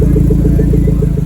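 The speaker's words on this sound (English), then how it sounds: "first of all, listen to the exhaust notes." Modified Metro car idling close by with a deep, loud, steady exhaust rumble and a rapid regular throb throughout.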